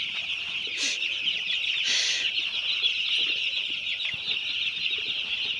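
Broiler chicks huddled together under winter brooding heat, a dense, steady chorus of high-pitched chirping with a couple of brief louder flutters or rustles, close and continuous without talk.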